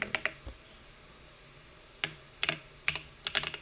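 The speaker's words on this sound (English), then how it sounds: "I'm gonna type" Keys clack on a computer keyboard in short, quiet bursts of a few strokes each, close to the microphone, with pauses in between and no talking.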